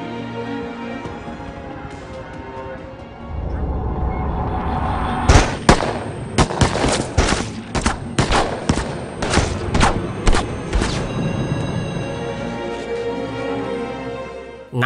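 A volley of police gunfire in an action film: a dense run of sharp, loud shots and bursts from about five to eleven seconds, rising out of tense rumbling score and fading back into it.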